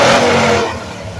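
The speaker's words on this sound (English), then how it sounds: "if you hear this monster over here, this engine is allegedly 650 horsepower" A 650-horsepower 7-liter LS V8 engine revs loudly and close by in a shop, a dense roaring blare that holds steady and then eases off slightly.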